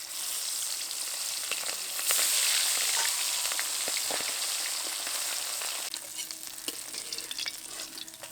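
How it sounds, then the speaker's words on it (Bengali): Hilsa fish tails fry in hot oil with a dense, steady sizzle that swells louder for a moment, then settles back to a continuous crackle with no talking. "এবার লেজাগুলো দিয়ে ভেজে নেব।"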